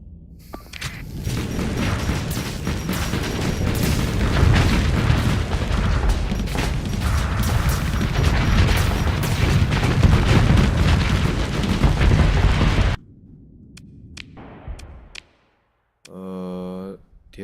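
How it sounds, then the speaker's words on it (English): Heavy autocannon fire in the Starsector space combat game, a loud, dense barrage of booming shots running for about thirteen seconds before cutting to quieter game sounds and a short tonal effect. "Heavy autocannon has a lot of spread."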